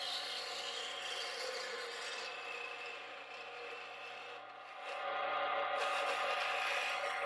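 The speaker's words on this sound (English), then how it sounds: "Then to further refine the shape at the top and bottom of the handle, I grab my spindle gouge" Spindle gouge cutting a turning wooden mallet handle on a lathe, a steady rough rasping scrape with a constant motor hum underneath, growing a little louder toward the end.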